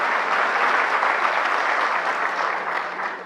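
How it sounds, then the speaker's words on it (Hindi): Steady, dense applause from a room full of people, even and sustained, tapering slightly at the end. "तो ये तालियां जो हैं"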